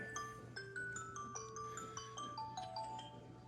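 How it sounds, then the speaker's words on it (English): A phone rings in the background, a melodic ringtone of stepped electronic tones that descend and repeat steadily over a low steady hum, fairly faint, with no talk over it. "that's another phone ringing"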